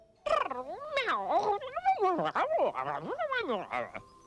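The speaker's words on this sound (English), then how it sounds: "Oh, and some of the cat noises too." A cat meows and yowls repeatedly up close, loud, drawn-out cries with sliding pitch following one another in quick succession.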